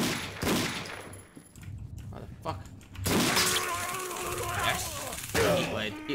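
Gunfire from an enemy in the horror video game Condemned: Criminal Origins, a loud burst of rapid shots and crashing impacts mixed with game noise while a player shouts over it.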